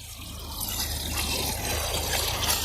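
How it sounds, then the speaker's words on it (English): Water from a hose pipe washes soil off the roots of a desert rose, a steady close gush and splatter of running water that stays even throughout. "using the hose pipe to wash away all the remaining dirt and soil"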